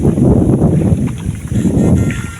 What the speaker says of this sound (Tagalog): Lakas ng alon, no? Tsaka hangin.